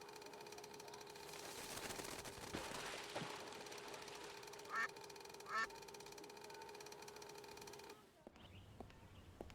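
Ducks in the adventure video game Secret Files 2 give two short quacks close together midway, over a quiet, steady game background hum that cuts out near the end.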